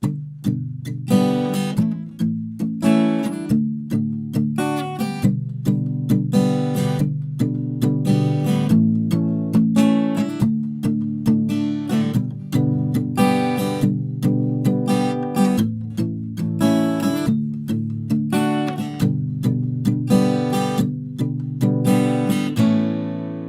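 Strummed acoustic guitar chords from the pre-chorus of a song play in a steady rhythm, with several chord changes over a sustained passage and a final chord ringing out alone.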